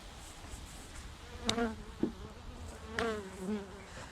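Honey bees buzzing at a hive in early November winter preparations with fondant feeding, a faint continuous hum with a few louder individual bees passing close by.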